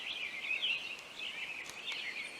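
A morning outdoors filled with steady birdsong, overlapping chirps and trills running continuously at moderate distance with no talking.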